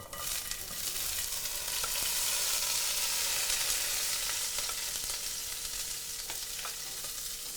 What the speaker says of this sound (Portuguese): Adiciono o óleo depois da panela tá bem quente. E primeiro a gente começa com o pimentão.